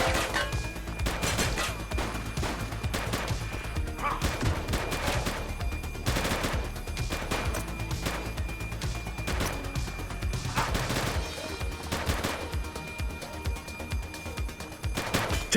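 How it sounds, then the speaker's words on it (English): Sustained video-game gunfire in The Precinct, dense bursts of automatic shots and heavy volleys crashing one after another over a steady loud din, with repeated sharp peaks throughout. "He's shooting!"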